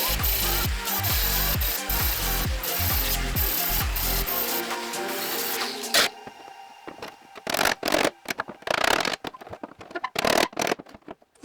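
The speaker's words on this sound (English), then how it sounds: "So let's try to grind this away again and see if it's clean or not." An angle grinder works over rough welds on a car body, first a continuous loud whirring grind with rhythmic scraping pulses, then breaking into short, intermittent bursts of grinding contact separated by pauses.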